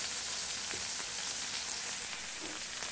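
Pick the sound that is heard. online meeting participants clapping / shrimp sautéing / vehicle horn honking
shrimp sautéing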